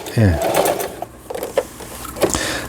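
A Lion Angel sewing machine runs in short bursts of mechanical stitching, with whirring, clicking motor pulses close by, partly under a man's speech.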